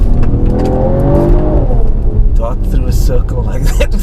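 A Mercedes-AMG GT53 accelerating hard through a turn, its engine note rising in a strong, close, loud growl that thins out as it pulls away, with someone talking over it.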